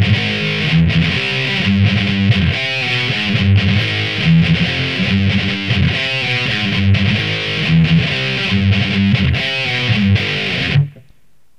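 Heavily distorted electric guitar chugs through a thrash metal riff, with dense palm-muted rhythmic strumming, loud and steady for about eleven seconds before cutting off abruptly.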